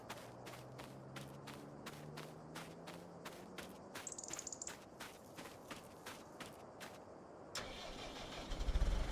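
A tractor engine starts up in a farming video game, ahead of hitching a lime spreader: a cranking whine rises into a medium idle under steady repeated clicks, ending in a louder burst.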